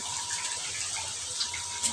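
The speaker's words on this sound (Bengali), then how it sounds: "আমি এখন এই যে গরম পানি করে রাখছিলাম এটা দিয়ে দিব" Hot water poured into a pan of braised chicken, a steady continuous gush of liquid pouring into the pan, close and moderately loud with no talking.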